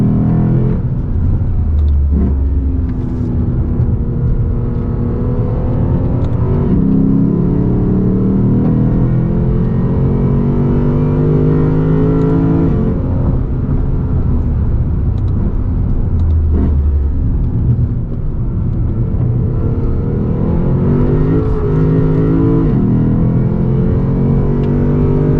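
A 2020 Lexus RC-F on a race track, its engine loud and close, rising and falling through repeated revving pulls and gear changes with a constant deep rumble.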